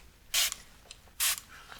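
Two short, crisp bursts of hiss from a spray bottle's trigger being pumped near the ear during a gentleman's hair styling session, spaced under a second apart with faint handling clicks in between.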